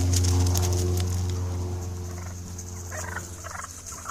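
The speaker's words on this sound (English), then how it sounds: "Often, toms are more vocal this time of year" Wild turkey gobblers in a flock gobbling loudly near the start, followed by quieter clucks and calls.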